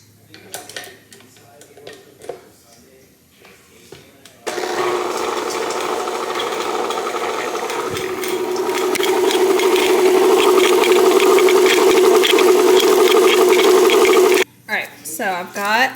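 After a brief clatter and some talk, a loud motor whirs steadily for about ten seconds, a blender churning a thick dip mixture, then cuts off abruptly.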